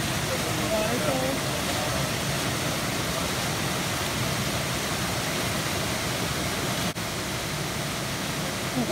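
A waterfall on the Appalachian Trail pours in a dense, steady broadband roar that fills the whole stretch with no letup, close and loud.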